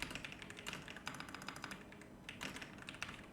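Quiet, fast tapping on a computer keyboard, irregular clusters of keystrokes continuing steadily at close range with no voice over them.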